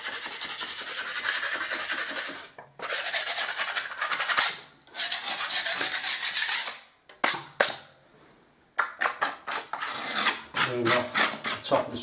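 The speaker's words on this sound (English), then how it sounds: "with your blade you can just give it a scrape over" A blade scrapes dried powder filler off a plaster wall in repeated harsh, gritty strokes with short pauses between them, close and fairly loud.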